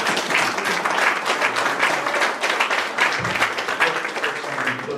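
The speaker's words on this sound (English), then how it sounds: "Let's give them a round of applause." Sustained applause from a mayoral debate audience in Tacoma, dense and steady throughout, fairly loud and close, with no break.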